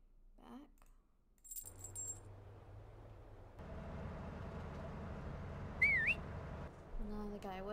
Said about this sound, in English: the guy whistles